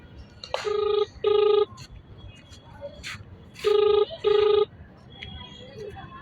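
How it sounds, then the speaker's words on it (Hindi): A phone rings in two pairs of electronic trills separated by a pause, with faint background voices murmuring between rings. "ये लगातार घंटी जा रही है।"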